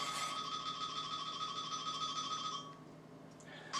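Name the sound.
mobile phone ringing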